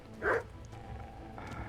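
A dog in Kingdom Come: Deliverance gives a single short bark, fairly close, over a low steady game background.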